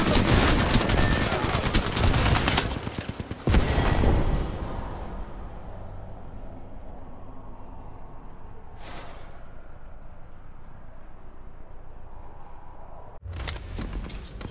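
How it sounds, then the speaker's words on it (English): Gunfire in the video game Apex Legends: a dense burst of rapid shots for the first few seconds, a brief second burst, then quieter game ambience with a short faint crackle and another loud burst at the very end. "Shots fired."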